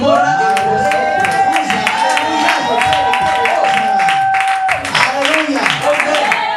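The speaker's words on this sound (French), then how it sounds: "Ils ont applaudi" Church congregation clapping during a Sunday Easter service, a continuous wash of applause with sustained tones and excited voices mixed in throughout.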